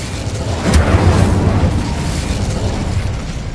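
Incendio fire spell in the Hogwarts Legacy video game, a loud rumbling burst of flame and blast that swells quickly and then roars on steadily, with no speech.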